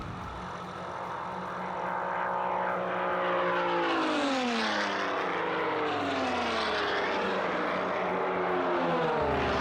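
A Vans kit-built aerobatic racing airplane roars past with a loud propeller engine, its pitch sweeping downward as it passes close and recedes, sustained throughout without talk.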